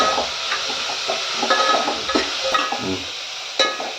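Onions sautéing in a pan for a dried fish curry, with steady faint sizzling beneath repeated close clinks and scrapes of a spoon stirring against the metal pan.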